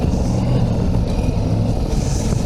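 A KTM 1290 Super Adventure R motorcycle engine under way at a FEAR enduro event, with a loud continuous engine drone mixed with rushing wind noise.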